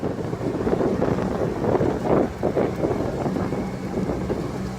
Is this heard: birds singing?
no